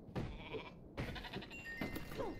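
Several short sheep bleats from a video game sound in quick succession, clear and close, with a thin electronic hum behind them.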